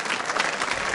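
Dense, steady applause from a school audience during a student quiz show, filling the whole moment with close, even clapping that stays loud throughout.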